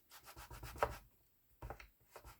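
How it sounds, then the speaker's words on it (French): Paper being rubbed firmly over an inked stamp to lift the ink, a near, dry scrubbing in two bursts with a quiet pause between. "je frotte bien pour vraiment tout récupérer"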